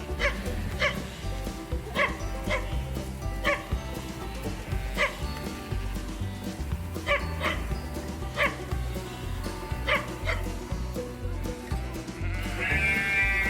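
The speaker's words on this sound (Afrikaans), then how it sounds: "Dit is 'n skaap." Close, clear sheep bleats repeat at intervals alongside dog-like yips over a steady farmyard background, with one longer wavering bleat at the end.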